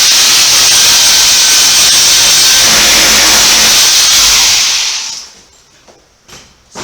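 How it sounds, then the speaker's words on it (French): A Workmaster hammer drill combining drilling and hammering action roars loudly and continuously at close range for about five seconds, then stops, leaving a few faint knocks and handling noises. "elle est très puissante parce qu'elle joue en même temps le rôle de perceuse et en même temps le rôle de marteau piqueur"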